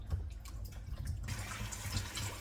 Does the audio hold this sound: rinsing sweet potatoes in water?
yes